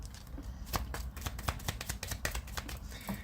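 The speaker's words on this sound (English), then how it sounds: "Last shuffle." Tarot cards are shuffled close by, a quick series of crisp riffling snaps and slaps in an irregular rhythm, fairly quiet with no voices over it.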